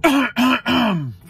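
A man clears his throat in three quick, loud, close rasping bursts, the last one drawn out and falling in pitch.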